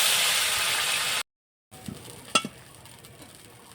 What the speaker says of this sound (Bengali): বাদ বাকি যে পনিরটা আছে এটাও ভেজে নেব